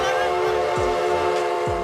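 A cartoon train from The Simpsons rolls along with a steady, loud mechanical rumble and a sustained horn-like tonal drone, with two brief low thumps at regular intervals.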